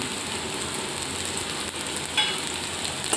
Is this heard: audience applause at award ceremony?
no